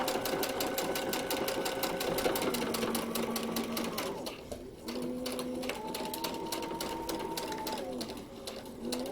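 A sewing machine stitches a paper-pieced quilt block with a steady fast rhythmic whir and needle clatter. It pauses briefly partway through, then runs on again, while a voice talks quietly over it.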